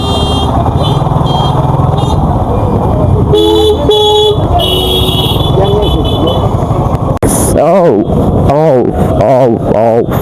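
Car horns honk repeatedly in a heavy traffic jam caused by roadworks on the road from Nabinagar to Uttara, with engines droning steadily and someone talking over the street noise.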